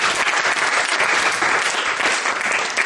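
A roomful of people at a company assembly claps loudly and continuously, a dense close wash of applause without talking.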